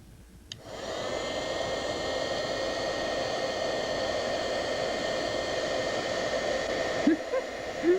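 Steady whooshing blast of an electric heat tool melting embossing powder on a stamped card, starting with a click and running continuously at close range before cutting off near the end; no talk.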